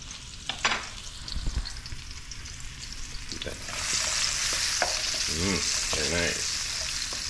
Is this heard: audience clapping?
no